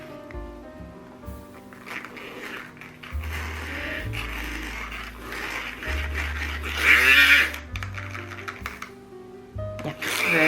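Thick cold-process soap batter with sunflower oil is mixed for white sage and lavender soap, a close motor whir droning steadily and stepping between pitches, with short pauses and a louder burst near the end.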